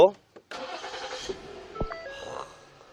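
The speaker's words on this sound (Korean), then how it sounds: "일단 이 차량 이제 시동부터 한번 걸어볼게요" A used fifth-generation Ford Explorer 3.5 V6 4WD Limited starts up with a short crank, then catches and settles into a quiet idle, heard from inside the cabin along with a few faint chimes.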